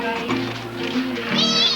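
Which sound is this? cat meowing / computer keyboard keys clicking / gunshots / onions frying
cat meowing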